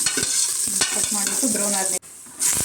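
Mutton pieces tipped into browned onions in a pot, frying with a steady sizzle while being stirred, with scraping strokes and a brief dropout near the end before the loud frying resumes.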